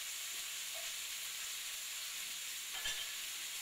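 Shrimp sizzle in a hot sauté pan with a little oil, a steady close crackling hiss that runs unbroken throughout with no talking.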